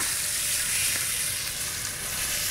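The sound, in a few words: steak fat side searing in a pan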